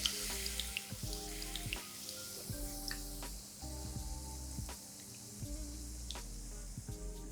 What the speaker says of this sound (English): Place them one by one into hot oil. That's the perfect sound.